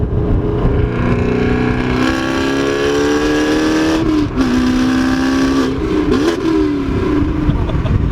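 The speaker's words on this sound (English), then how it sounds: "That's that rev match. Sounded good." A 2016 Camaro SS V8 revving hard and loud from close by, the pitch climbing steadily, then dropping sharply and blipping back up in a quick rev-matched downshift.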